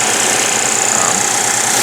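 A Lexus 2.5-liter V6 engine runs at a steady idle, a continuous close and loud mechanical hum with no speech.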